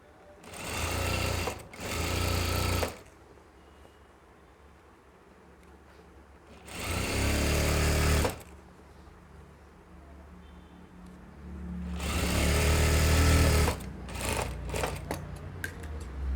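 A sewing machine stitches elastic onto a nighty, running in several loud bursts of rapid chatter separated by quiet pauses, close up, no talking.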